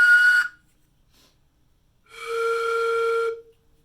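Bamboo pan flute sounding two breathy notes close by, a short high one first, then after a pause a longer, lower held tone.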